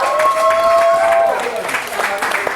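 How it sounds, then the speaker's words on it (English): An audience at a secondary school preunion applauds steadily, a dense wash of clapping with a few sustained tones running through the first half. "So let's clap those couples that went all the way up."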